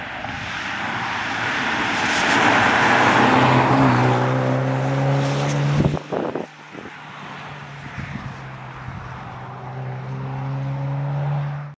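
A BMW X2 M35i engine drones loudly and steadily while driving, with the tone dropping briefly midway as it shifts before building again.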